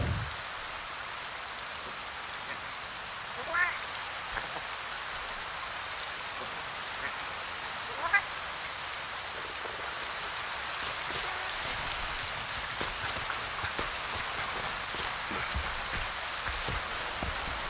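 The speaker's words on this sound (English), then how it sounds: "It's raining, it's pouring," Steady rain pours down in Monster Hunter: World, a constant broadband hiss with a couple of faint brief sounds rising above it.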